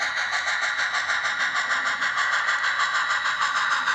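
An HO scale model train runs over a freshly repaired dip in the track, giving a steady, close whirring motor hum with a faint rhythmic clicking of wheels, continuous throughout with no talking.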